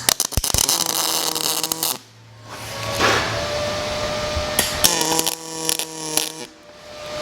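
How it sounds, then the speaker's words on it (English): MIG welding on heavier steel of roughly 0.2-inch thickness, heard as a loud, steady crackling buzz that runs for about two seconds, breaks off into quieter shop ambience, then returns for another burst near the end. "let's do some heavier welding here"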